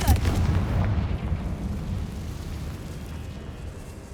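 A Confringo fire spell from a Harry Potter video game bursts with a heavy blast, followed by a rumbling, decaying roar that fades over several seconds.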